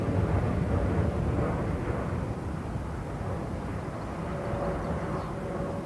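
Steady roar of an airliner at London Heathrow Airport, a broad continuous engine rumble holding fairly loud and even throughout, slightly easing after two seconds, with no talking.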